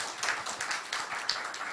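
Audience applauding for teachers at a church seminar in Pohang, a soft, fairly distant patter of many hands clapping steadily throughout.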